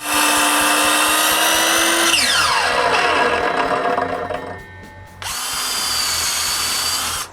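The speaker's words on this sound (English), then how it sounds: "I drill holes in the rabbet in the back of the molding" A power drill bores holes into the rabbet at the back of a wooden window molding, its motor whining steadily, winding down, then spinning up again loud and close.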